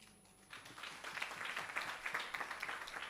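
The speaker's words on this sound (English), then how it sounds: "I think it's befitting that we clap hands for them." An audience at a teachers' research colloquium claps for a few seconds, scattered hand claps rising after a brief lull and continuing fairly faint and distant.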